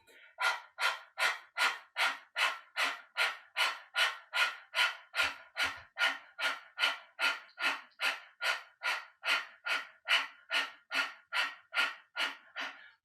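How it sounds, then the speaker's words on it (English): Breath of fire in a kundalini yoga session: about two dozen sharp, forceful exhales through the nose come in a steady, quick rhythm, each a short close puff with near-silence between. "And this is a warm up to the breath of fire."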